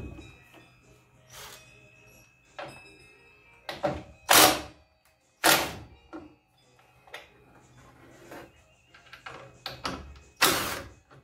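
A socket wrench loosens the blade bolt on a Hercules miter saw during a blade change, giving separate bursts of close metallic ratcheting and clicking with quiet pauses between them.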